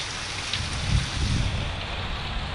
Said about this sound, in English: look at that rain dripping out of that rain gutter